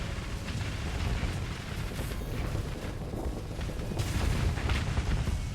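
Torpedo explosions in the space combat game Starsector, a continuous barrage of deep rumbling booms and crackling blasts, loud and dense throughout with no speech.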